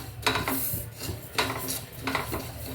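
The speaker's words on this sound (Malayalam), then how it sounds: "ചട്ടി നന്നായിട്ട് ചൂടായിട്ടിരിക്കുകയാണ് പെള്ളിൽ ഇങ്ങനെ പൊട്ടി വരുന്നൊരു നമുക്ക് ശബ്ദം കേൾക്കാം" Black sesame seeds pop and crackle in a hot pan, with bursts of scraping, rustling stirring at the start, middle and end over a continuous low hiss.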